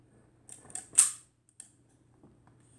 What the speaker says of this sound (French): Ouverture, fermeture du diaphragme.